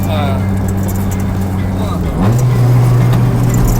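A Honda CR-X del Sol with a B16A VTEC engine drones steadily from inside the cabin, then its pitch climbs sharply as the revs build, loud and continuous beneath occasional conversation.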